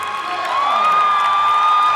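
Spectators at a show jumping Grand Prix in Hong Kong cheer and whistle from their feet, a loud, sustained wash of crowd noise with a tonal whistle riding over it.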